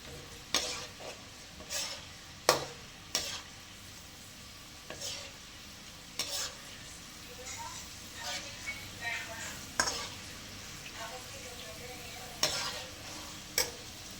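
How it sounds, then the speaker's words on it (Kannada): Garlic fries in a pan for chutney under a soft steady sizzle, punctuated every second or two by sharp spoon scrapes and taps against the pan. "ಬೆಳ್ಳುಳ್ಳಿ ಅದೆಲ್ಲ ಎಷ್ಟು ಚೆನ್ನಾಗಿ ಫ್ರೈ ಆಗೈತೆ"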